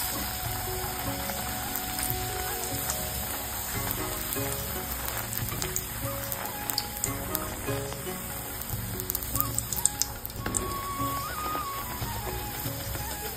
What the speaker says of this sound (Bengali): এবার এক এক করে ভাজা যাক।